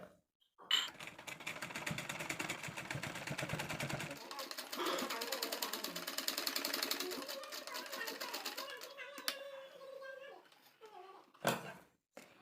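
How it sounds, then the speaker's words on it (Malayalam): Sewing machine stitches lace along the neckline edge of a nighty, a fast rattling run of needle clatter lasting several seconds before slowing and stopping, followed by a few faint handling clicks. "അപ്പോൾ ഞാൻ ഇതിൽ കൂടെ നെക്കിൻ്റെ അറ്റത്തിൽ കൂടെ വെച്ച് ലേസ് സ്റ്റിച്ച് ചെയ്തെടുക്കുന്നുണ്ട്."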